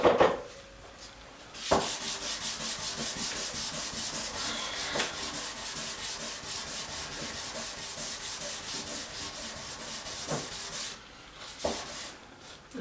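A gelcoat repair patch rubbed with 1200 grit sandpaper, a steady close-up scratching hiss in long continuous strokes, broken by a few short pauses and thumps.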